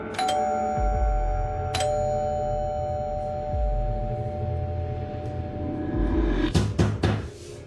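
A doorbell ringing at a house door, with several bright electronic chimes and a ding-dong tone sustained over a low hum, followed near the end by a few sharp knocks or clatters.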